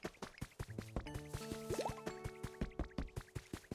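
Plants are watered in the video game Pokémon Pokopia: game sound effects of water dripping and splashing play over a steady, rhythmic musical backing, with tonal blips and a quick rising chirp partway through.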